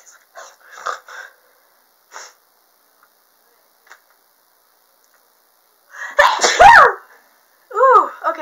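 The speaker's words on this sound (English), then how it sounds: "Okay, I got that sneeze out finally." A woman's loud sneeze bursts out after several small sniffs and catching breaths, followed by a short wheezy exhale and sniffle, all close and otherwise quiet.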